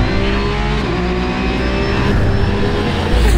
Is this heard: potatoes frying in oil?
no